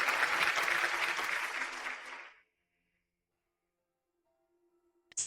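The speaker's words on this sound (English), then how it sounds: "Let's give her a round of applause" Audience applause at a jewelry collection launch, greeting a young woman CEO who presents the new line; dense, loud clapping for about two seconds that fades out, followed by near silence.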